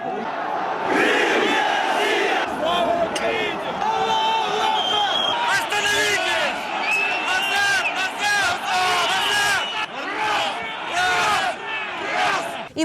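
Two opposing rally crowds face off outside the parliament in Simferopol, Crimea, a loud, chaotic mass of shouting voices and chants rising and falling in waves, with individual yells piercing through nearby.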